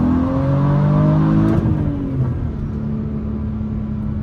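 A tuned BMW 435i running an MHD Stage 2 tune revs at full throttle near 4,000 RPM, a loud sustained engine roar with rising harmonics that eases slightly, heard close from inside, no talking.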